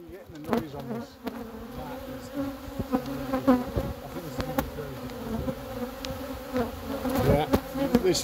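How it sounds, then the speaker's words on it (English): Aggressive killer honey bees swarm and buzz loudly and continuously at close range during removal of two colonies from a house, a dense droning hum with wingbeats flaring past, while voices talk faintly underneath. "Oh my god, bees are very aggressive."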